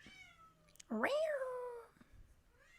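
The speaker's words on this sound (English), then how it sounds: "Do you guys hear my cat?" A single clear, drawn-out cat meow rising then falling, close by, in an otherwise quiet room.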